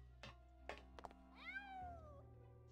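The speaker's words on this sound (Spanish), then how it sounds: "Escucho un gato, ¿eh?" A cat meows in the Grim Fandango video game, one long rising-then-falling call near the middle, heard alone over a low steady game background with a few soft knocks before it.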